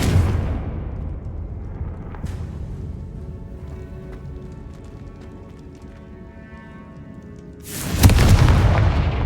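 A Confringo blasting spell goes off in Hogwarts Legacy, a sudden loud boom that follows a rumbling stretch of game sound and a sharp crack.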